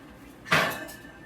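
A covered pot of rice is set into an oven with a single brief clatter of metal, a sharp knock followed by a short rattling ring that quickly fades.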